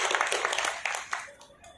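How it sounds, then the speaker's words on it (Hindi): An audience applauds a woman at a Bhagavad Gita lecture, a burst of clapping from many hands that thins out and fades over under two seconds. "जोरदार तालियां माता जी के लिए"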